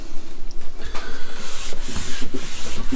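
A tack cloth scrubs back and forth over a wooden surface, a close, rhythmic rasping rub with repeated strokes, loud and alone.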